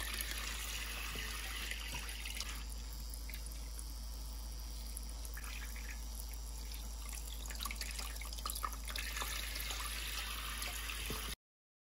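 Tap water runs steadily over fresh blackberries being rinsed in a sink, a continuous splashing stream with small drips and clinks, close and moderately quiet throughout.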